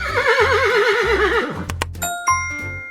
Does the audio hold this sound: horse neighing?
yes